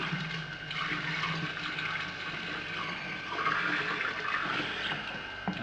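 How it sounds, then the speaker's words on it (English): Beer extract being poured into a homebrew fermenter for a Black Rock NZ Company Bitter, a close, continuous gurgling liquid stream with splashy surges that rise and fall, no talk. "I can't seem to fucking pour something into the fermenter without spilling it"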